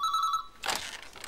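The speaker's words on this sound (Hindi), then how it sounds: "तुम्हारा फोन।" An old-style telephone bell rings in a short trill, clear and close. It then cuts off into a noisy rustle, as if the receiver is being picked up.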